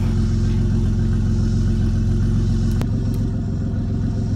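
A twin-turbo L36 3800 V6 Camaro idles while warming up, a steady, close, loud low rumble with a single sharp click near the end and no voices.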